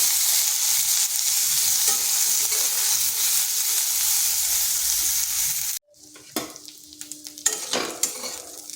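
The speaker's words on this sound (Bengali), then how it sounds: "এরপর করলার সাথে পেঁয়াজটাকেও ভেজে নেব।" Onions frying with bitter gourd over low heat, a continuous dense sizzle that cuts off abruptly partway through, followed by quieter clinks and scrapes of utensils, no talk.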